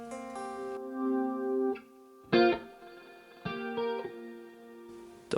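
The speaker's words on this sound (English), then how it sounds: "reverb delay at the very bottom of the list, party reverb" Electric guitar played through a Headrush MX5 on its party reverb setting: sustained chords and a few struck notes ring out with lush, washy reverb tails between short pauses.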